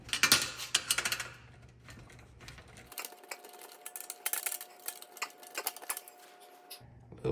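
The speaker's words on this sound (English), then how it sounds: "Takes a lot of force to get those screws in." Screws driven by hand into the aluminium frame of a MAAX Cyrene corner shower glass door, giving close, irregular clicking and scraping ticks in quick clusters, with a faint steady hum through the middle stretch.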